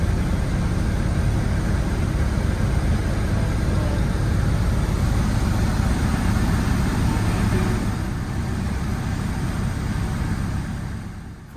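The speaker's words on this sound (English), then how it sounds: "Joe is simulating an engine failure on our way home, to the extent of throttling back to flight idle for the approach at around 1000" A DHC-1 Chipmunk's engine throttled back to flight idle at about 1000 RPM on approach drones steadily in a broad, rumbling roar that eases slightly toward the end.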